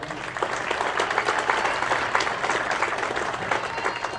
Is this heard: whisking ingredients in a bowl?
no